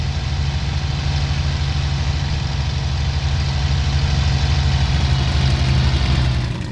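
A small aircraft engine running on the runway of a Bf 109 aircraft with power being added, a loud, steady, close droning rumble with a dense throbbing low end that holds for several seconds without a break.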